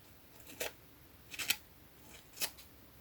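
Scissors cutting paper while making an end-of-year teacher gift craft: three crisp, close snips spaced about a second apart over a quiet background.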